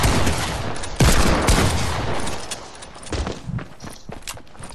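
Rapid bursts of gunfire from a Fortnite match crack in quick succession, loudest near the start and trailing into scattered shots with footsteps, no voices over them.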